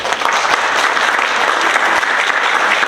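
An audience at a public forum on drinking water claps in a dense, steady burst of applause that holds at the same loudness for about three seconds.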